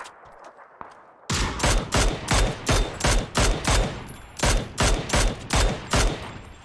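Rapid bursts of automatic gunfire in PUBG, about a dozen loud evenly spaced shots in quick rhythm after a quiet start, close and dominant with no talk over them.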